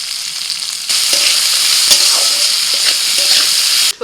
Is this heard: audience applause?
no